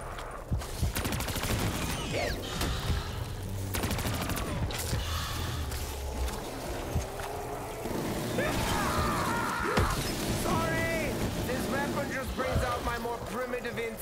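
Explosions and gunfire in the Call of Duty Black Ops III zombies map Revelations, dense and continuous with booming blasts and rattling bursts, a game voice speaking over the chaos.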